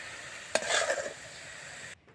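Potatoes being mixed by hand with fried onion, garlic and oil in a home kitchen, a brief squelching, stirring burst that fades before a quiet end, with no talk.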